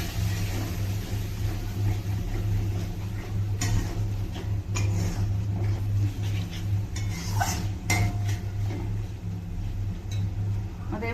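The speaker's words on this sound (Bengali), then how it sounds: "জল দিয়ে মশলাটা কষাবো।" Spice paste stirred and cooked in a pan with water for Bengali aloo dum, heard as irregular ticking and clinking of a utensil against the pan over a steady low background hum.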